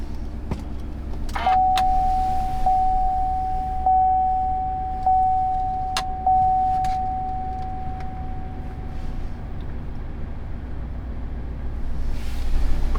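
A GMC Sierra AT4 pickup with a misfire problem, started with a push button: a long steady chime tone, a few sharp clicks, then the engine catching and settling into a low idle rumble close by, no voices.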